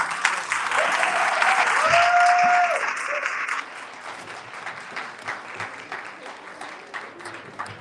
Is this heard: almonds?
no